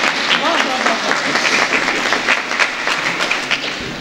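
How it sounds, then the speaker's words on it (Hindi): Audience applause at a poetry recital (mushaira) hosted by a host, a steady wash of clapping filling the room, with a voice speaking over it. "एक सही तरह तालियां बजा ले यार"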